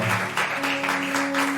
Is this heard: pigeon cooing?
no